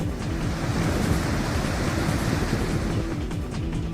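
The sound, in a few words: natural waterfalls flowing after monsoon rain in Jaisalmer desert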